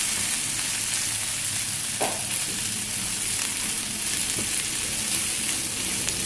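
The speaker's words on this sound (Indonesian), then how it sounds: "Kalau sudah panas, yang kita tumis duluan adalah bakso sama ayam." Meatballs and chicken sautéing in a hot frying pan give off a loud, continuous sizzle and crackle, with an occasional scrape of stirring, and no voices.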